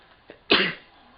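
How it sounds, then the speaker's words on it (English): A single sharp sneeze from an allergic sports commentator, preceded by a faint intake of breath, close to the microphone and loud against an otherwise quiet background. "And I'm sneezing."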